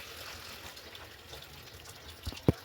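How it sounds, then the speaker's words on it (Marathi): Water is poured into a hot pan of tempering for a homemade sprouted moth bean (matki) curry, giving a faint, steady rushing wash that ends in a couple of short knocks. "आता मी पाणी सोडतो"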